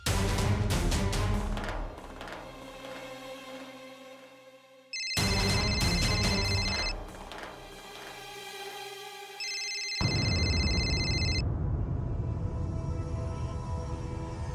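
A telephone ringtone plays in repeated electronic bursts, loud and close, with tonal chimes over a busy background; no one speaks.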